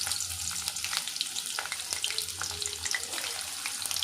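Sliced onions frying in a pan for Hyderabadi-style mutton do pyaza, giving a steady, close crackling sizzle with scattered pops and spatters throughout.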